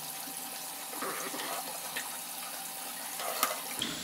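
Warm water runs steadily from a tap to soak computer dust filters, a soft, continuous splashing rush that stays fairly quiet and unbroken, with a couple of small splashes near the end.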